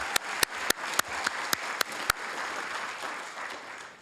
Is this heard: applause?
yes